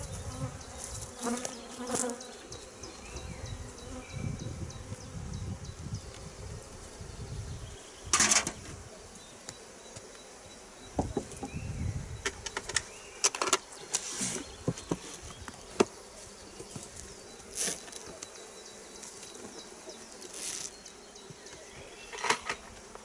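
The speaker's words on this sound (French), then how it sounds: "je mets une grille à reine et je mets l'essaim par-dessus et les abeilles vont monter." Dense, steady buzzing of many honeybees close by at a hive with a swarm, with scattered sharper knocks and clicks throughout.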